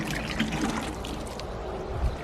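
Water from a watering can splashes and trickles onto sacks laid over a garden bed, a steady close outdoor patter with no talking.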